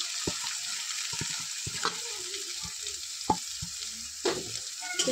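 Chopped onion, ginger and garlic fry in oil with a soft, continuous sizzle, interrupted by sharp, irregular taps and scrapes of a spatula stirring them around the pan.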